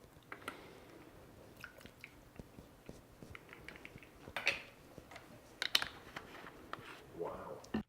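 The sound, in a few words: pressing keys on a computer keyboard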